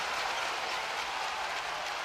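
A basketball arena crowd at a B.League game roars after a missed shot, a dense, loud, sustained cheer and applause filling the whole space without pause.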